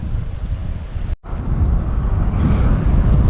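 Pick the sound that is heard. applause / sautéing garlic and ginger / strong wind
strong wind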